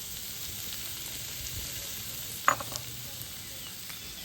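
Sliced capsicum sizzling in a pan over paneer filling, a soft steady fry hiss with a sharp stirring clatter midway and a couple of lighter knocks, close and alone.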